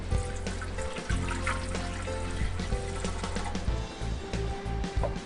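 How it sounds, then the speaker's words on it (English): Warm water pours and trickles into a bread machine pan over olive oil, a continuous close splashing stream with no talking. "A cup and a half of warm water."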